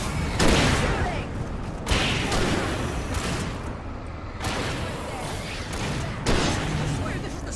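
Gunfire in the action game Alan Wake, with loud bursts of shots and booming blasts recurring every second or two over a dense, continuous roar of combat noise.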